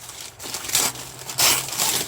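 Brown paper wrapping torn and crinkled open from a delivered parcel, with loud, close rustling in two stronger bursts and no talking.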